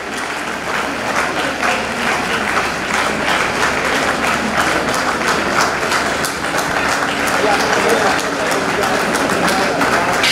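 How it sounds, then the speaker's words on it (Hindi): Sustained, loud crowd clapping at a ceremony in Silchar for the Governor of Assam, steady and dense throughout with a faint voice and general hall noise mixed underneath. "तालियां बजती रहनी चाहिए"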